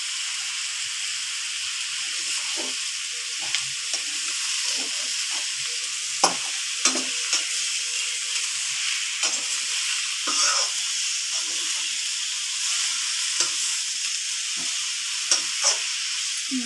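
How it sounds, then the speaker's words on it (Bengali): Pumpkin and pui shak greens sizzle in a hot pan for a Bengali chorchori, a steady frying hiss broken by repeated scraping knocks of a spatula as the vegetables are stirred. "সবজিগুলো দিয়ে একটু নাড়িয়ে নেবো।"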